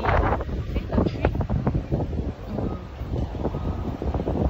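Strong wind on a 24th-floor rooftop buffets the microphone in heavy, gusty rumbles throughout, loud and close, with no one speaking.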